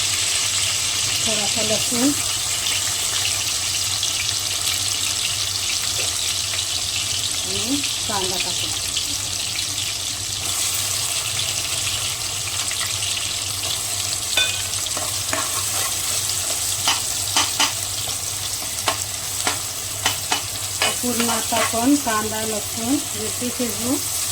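Green chilies sizzle and spit in hot oil in a pan, a steady frying hiss running throughout with scattered crackles and stirring clatter, while someone talks over it at intervals.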